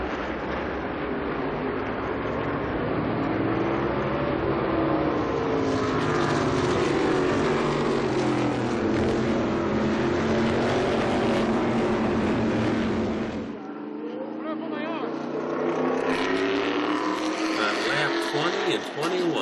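Modified race cars roaring around the Lime Rock track in a Modified Tour race, a dense, steady engine drone of many cars passing at speed, loud and continuous with a brief dip before the roar picks up again, under a commentator's voice.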